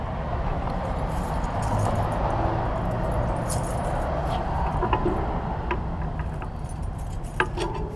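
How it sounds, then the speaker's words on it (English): Metallic clinks and rattles as a bicycle U-lock is unlocked and pulled off a back wheel and frame, a few sharp taps standing out over a steady outdoor background rumble; no one speaks. "Forgot to take the U-lock off."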